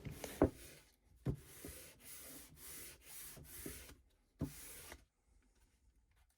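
Sandpaper rubs on a solid wooden knife block in a series of rhythmic back-and-forth strokes, close and fairly quiet, with a few soft knocks between passes.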